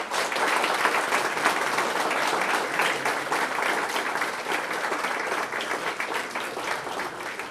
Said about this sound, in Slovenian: zato namenimo jim še en velik bučen aplavz